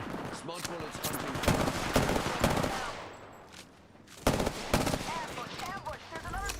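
Video game gunfire rattles in rapid automatic bursts, loud and close, easing into a short lull before more volleys erupt, with faint game voices mixed in.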